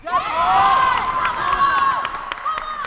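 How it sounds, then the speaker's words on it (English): A crowd at a men's playoff final cheers and shouts with high, whistling voices, while scattered claps and excited calls rise and fall. "The cheering you can hear now for a good response on the opposite sides."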